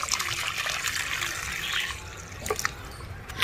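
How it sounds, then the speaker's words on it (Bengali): Water pours onto the soil of a freshly repotted bougainvillea, a continuous close splashing and trickling flow that swells and dips, with no talk. "গাছটা বসিয়ে নিয়েছি, এখন গাছে জল দিয়ে নিতে হবে।"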